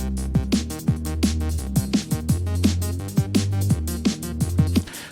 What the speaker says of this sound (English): this bouncy bass thing here,